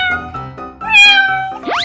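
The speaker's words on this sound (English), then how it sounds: "Cat." A cartoon cat in a 3D animal slide video game meows in a short run of bright, clear calls, ending with a rising upward-swooping meow, close and loud with no talking.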